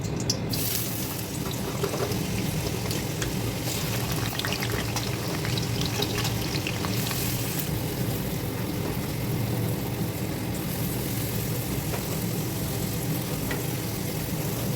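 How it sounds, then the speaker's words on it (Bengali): Continuous frying sizzle close by of carrots, capsicum, potato and egg in hot oil for chow mein, broadband and steady throughout, with occasional clatter and watery hiss mixed in. "সব একসাথে সবজি ভালো করে ভেজে নেবো।"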